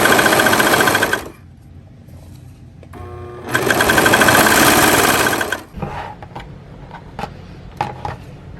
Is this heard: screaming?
no